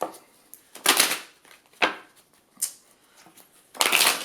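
A deck of oracle cards is shuffled by hand, giving several separate crisp riffling bursts with quiet gaps between them, close and fairly soft.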